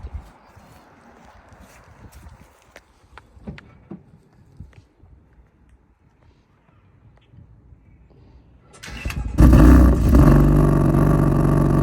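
A tuned 2015 BMW M4 fires up abruptly after a quiet stretch of small clicks and shuffling, its engine bursting into a loud, broad roar near the end, close by.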